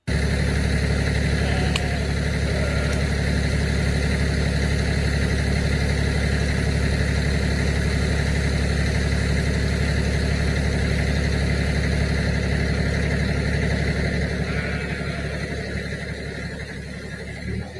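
A farm tractor engine idles steadily and loudly close by, a continuous low rumble with a few faint clicks on top, dropping off slightly toward the end.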